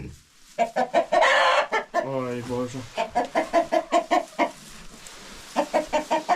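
A rooster clucks repeatedly up close in quick rhythmic bursts, with a short exclamation from a person near the start.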